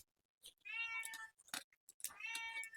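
A cat in a home kitchen meows repeatedly at close range, two drawn-out cries separated by a short gap and soft clicks.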